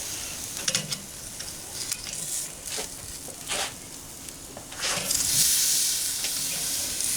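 Hickory-smoked sous vide tri tip steaks sizzle on a grill with a spinning grate, a steady close hiss punctuated by sharper spitting crackles and brief flares of louder frying.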